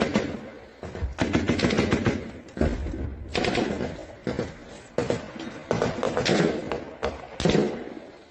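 Bursts of fire from an improvised heavy machine gun in Ukraine war footage, rapid repeated shots in several strings with short pauses, loud and sharp.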